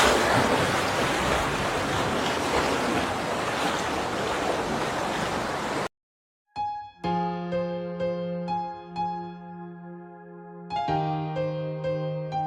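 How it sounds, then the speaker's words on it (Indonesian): Ocean waves at sea, a loud broadband rush of surf and wind at first, then cut off abruptly and replaced by tonal music. "Itu ombak lagi nih."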